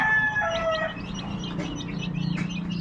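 Free-range chickens and roosters being fed outdoors, with a rooster's harmonic crow near the start and softer clucks and fowl calls over a steady low background hum.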